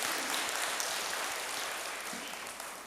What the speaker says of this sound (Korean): 우리 모두 환영하는 마음으로 감사와 축복의 박수를 올려드리겠습니다.